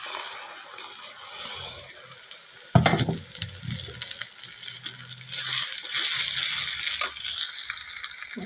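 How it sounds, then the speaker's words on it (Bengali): Ginger-garlic paste frying with reddened onions in oil for mutton kosa sizzles steadily, with a sharp burst as it is stirred, then continued crackling sizzle and scraping. "এবারে আদা রসুনটা একটু ভাজা ভাজা করবো বন্ধুরা।"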